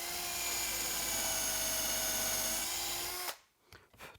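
Drill press driving a dull countersink bit, locked quill, a steady high whine with a grinding edge held for about three seconds before it cuts off abruptly, followed by faint shop clatter.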